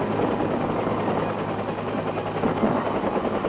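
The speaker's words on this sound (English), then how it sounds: "Wave after wave of helicopters lifted the fighting men into the assault." Military helicopters airlift troops into an assault near Dak To, Vietnam, in 1968. A loud, steady rotor drone with a dense rumbling churn holds unbroken and close throughout, with no voices.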